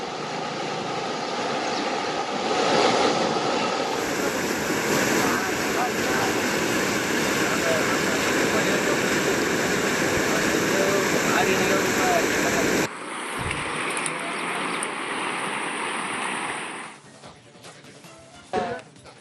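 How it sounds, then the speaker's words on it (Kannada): Rushing floodwater after heavy rain in Bidar, with bridges submerged, roars as a steady, loud broadband wash, then shifts to a slightly different churning tone partway through and thins near the end. "ಈ ನೀರಿನ ರಭಸ ಕಡಿಮೆ ಆಗುವವರೆಗೂ ಆ ಕಡೆ ಇರೋರು ಆ ಕಡೆ, ಈ ಕಡೆ ಇರೋರು ಈ ಕಡೆ"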